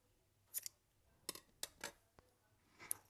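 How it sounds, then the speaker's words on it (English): Scissors snipping white yarn during a crochet project: a few crisp, separate cuts close by and quiet, with short gaps between snips and no talk. "And I'll also cut this white yarn as well."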